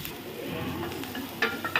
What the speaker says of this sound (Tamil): இதை கொஞ்சமாக வதக்கிடலாம்.